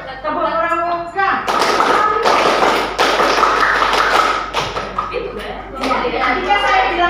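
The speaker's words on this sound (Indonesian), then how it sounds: "Tepuk pramuka." A group of children performs the Scout clap pattern (tepuk pramuka) in a classroom, a dense burst of rhythmic clapping and thumping that swells after a brief pause, with children's voices and chatter around it before and after.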